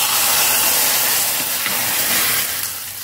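Steady loud hiss and sizzle of hot tomato-pepper rasam poured onto tempering in a pan, a close, continuous steamy rush that fades slightly toward the end.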